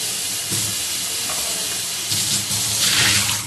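Tap water runs while a plastic container is rinsed out at a kitchen sink, a steady hissing flow that grows louder and brighter toward the end, alone without talk.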